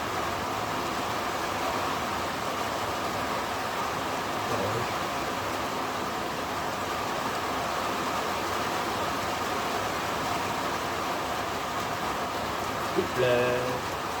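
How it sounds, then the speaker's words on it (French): Steady, dense rain from a moderate thunderstorm in Grenoble pours down in a continuous broadband hiss, loud and unbroken throughout, with a faint brief sound near the end. "C'est la terrible pluie."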